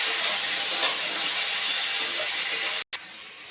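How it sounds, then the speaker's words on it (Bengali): Brinjal frying on a high flame, giving a loud, steady broadband sizzle and hiss that runs continuously, with a brief cutout near the end. "হাই ফ্লেমে দিয়ে ভাজতে হবে, যাতে বেগুনগুলো ভাজাও হবে"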